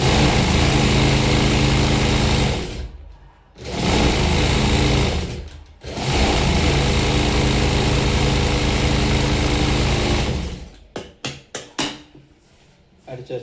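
Sewing machine stitching a second row along a blouse seam, running in loud continuous bursts with short pauses between them and stuttering starts and stops near the end.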